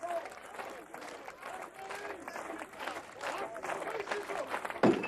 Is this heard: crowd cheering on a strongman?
yes